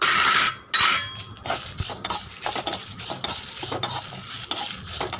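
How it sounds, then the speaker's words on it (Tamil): Pepper, cumin and dried red chilies dry roast in a pan, stirred with a utensil scraping and clattering in irregular bursts, close and fairly loud, with no talking. "ஒரு 5 மினிட்ஸ் வச்சு நல்லா வறுத்து நம்ம பவுடர் பண்ணி எடுத்து வச்சுக்கலாம்"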